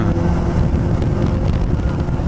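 Suzuki GSX-S750 motorcycle engine revving hard at high rpm, a steady close drone blended with heavy wind rush throughout.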